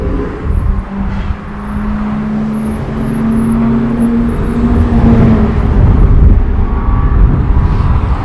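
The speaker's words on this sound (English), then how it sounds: "here we have a Mazda MX5, which is for Mazda MX5 Championship, and they're just now going out for the practice session" Mazda MX5 championship race car heading out onto the track for a practice session, a loud, close engine rumble with a droning tone that builds and fades over several seconds amid open-air noise.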